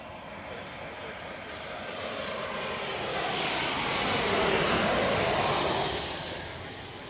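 An airliner arriving at Chicago O'Hare airport sends out a broad jet roar that builds toward a close, loud peak and then recedes, with no one speaking.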